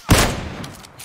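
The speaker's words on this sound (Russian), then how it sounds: "Это он стреляет?" Gunfire in PUBG Lite, a single loud shot or short burst at the start followed by a fading echoing tail, with no voices over it.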